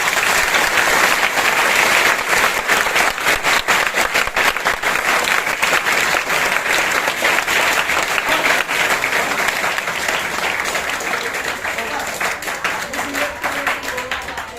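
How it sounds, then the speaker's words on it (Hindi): Sustained applause from a crowd at a school Teachers' Day celebration, many hands clapping vigorously and evenly for a long stretch before easing slightly toward the end. "एक बार और ताली होनी चाहिए"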